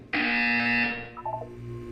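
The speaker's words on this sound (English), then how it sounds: "You will hear a buzzer." A buzzer in the Portal 2 video game gives one loud, steady electronic tone that holds for about a second, then fades into a quieter, wavering tail.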